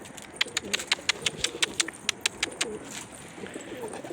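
Pigeons coo softly in a low, rolling murmur while a quick run of sharp wing claps sounds as they land, fairly faint and close.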